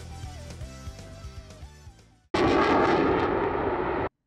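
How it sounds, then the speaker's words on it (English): A Lockheed C-5 Galaxy cargo plane roars loudly at close range, a dense, sustained engine blast that cuts in abruptly after a short stretch of music and holds steady for about two seconds before stopping. "The Lockheed C-5 Galaxy. I am so excited I get to talk about this plane, and it's actually my favorite cargo plane ever."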